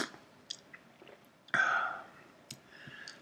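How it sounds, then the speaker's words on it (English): A person slurps tea indoors: a few faint clicks and mouth sounds, then one loud, close slurp from about 1.5 s that fades over half a second, followed by softer swallowing clicks. "so you may hear me occasionally slurp a bit of tea"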